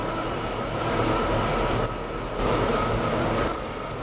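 A train in the Roblox game Stepford County Railway rolls into a station with a steady rumbling wheel and track noise that swells slightly in pulses, close and fairly loud, with no talking.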